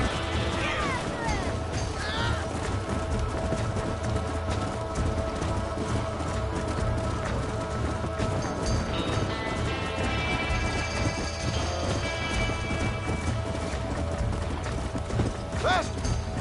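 Galloping horse hooves drum steadily through a loud, dense game scene in Streem while a runaway stallion is chased, the rhythmic clatter blending with rumbling action noise and faint voices.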